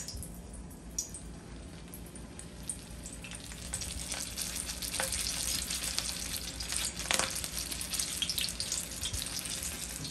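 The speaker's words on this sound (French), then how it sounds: "Je vais maintenant commencer à frire notre poisson." Malangwa fish frying in hot oil, a steady soft sizzle with occasional crackles and pops, close by and without any talk.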